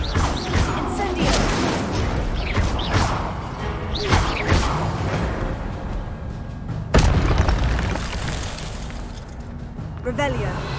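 Incendio fire spell cast in Hogwarts Legacy: a loud whooshing burst with booming impacts amid dense, continuous game effects and clashing sounds.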